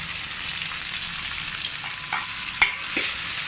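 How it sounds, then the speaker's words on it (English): Sliced pork belly frying in a pan as its fat renders, for fried noodles in prawn stock; a steady close sizzle runs throughout with a couple of brief clinks or stirs near the end, no talking. "add in some sliced pork belly and fry it until it is cooked"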